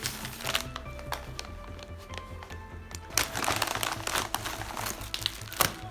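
Crinkling plastic wrapping is handled and pulled open on a mailed package holding a damaged iPhone 8, with soft irregular rustles and a few louder crackles close by.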